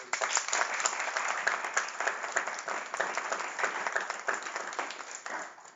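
Audience applause for a conference panel at an embassy-hosted event in Prishtina, a steady, dense wash of many hands clapping at moderate distance, continuous from start to end.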